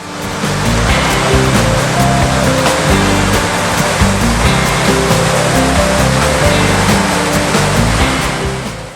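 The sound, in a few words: cold glacial stream flowing down a valley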